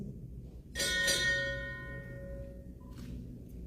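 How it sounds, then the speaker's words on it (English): A ship's bell is struck twice in quick succession at a United States Navy retirement ceremony, the bright metallic tone ringing on and slowly fading over a quiet background. "Sound, 2 bells."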